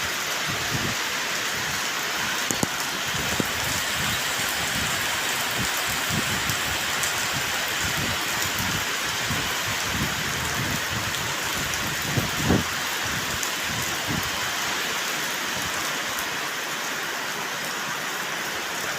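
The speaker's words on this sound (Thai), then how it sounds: "พายุมาอีกแล้วพี่น้องเอ้ยบ้านผมตกได้ตกดี" Heavy storm rain pours down steadily and loudly on surfaces around a house in Nakhon Phanom, Thailand, a dense continuous hiss with occasional louder drips and splashes and no voices.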